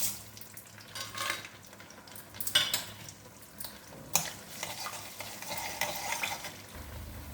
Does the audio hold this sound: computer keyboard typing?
no